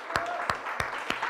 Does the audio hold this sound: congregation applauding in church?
yes